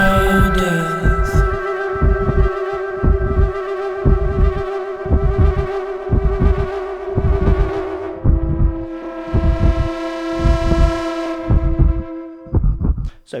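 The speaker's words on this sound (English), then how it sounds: "we've got this really weird heartbeat sound" An electric guitar run through a DigiTech Ricochet pitch-shift pedal makes a weird heartbeat-like throb: loud, evenly paced low double thumps repeating over a sustained humming drone that swells and fades, with no voices.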